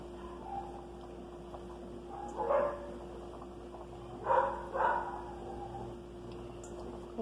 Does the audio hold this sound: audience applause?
no